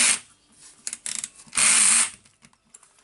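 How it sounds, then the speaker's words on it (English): Armature of a Hitachi DH40MR rotary hammer spun by hand during assembly, giving short ratcheting bursts of gear clatter, close and dry, with a louder spin in the middle and a brief spoken word. "I can spin the armature and I can see that the tool holder is spinning"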